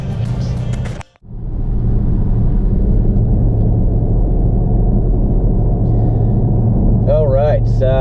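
Steady low engine rumble inside a turbocharged 2011 Mitsubishi Lancer Evolution X GSR with a Full Race turbo kit, cruising after a brief drop near the start; a faint chirping or whistle joins near the end.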